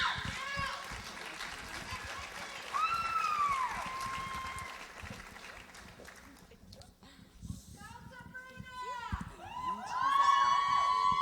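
An audience at the Miss Lehi beauty pageant applauds and cheers for last year's royalty, with steady clapping, scattered high shouts and squeals, and a swell of cheering near the end.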